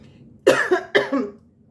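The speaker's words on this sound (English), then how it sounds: "Sorry, I had to cough." Two sharp, close coughs in quick succession, loud and isolated against a quiet background.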